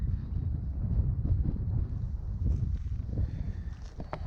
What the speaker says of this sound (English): wind's kicked up a little bit on Miramoke Lake